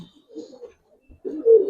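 A pair of old-breed Bagha pigeons, a hen and a cock, give soft low coos. A louder, closer rolling coo swells near the end, and there is no talk.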